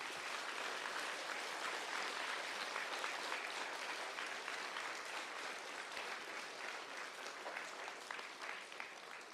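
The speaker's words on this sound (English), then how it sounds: "Can you join me for a moment in giving your teachers a really big round of applause for everything they've done?" An assembly audience at New Canaan Country School's Lower School gives its teachers a big round of applause: dense, steady clapping from many hands fills the room at an even level throughout.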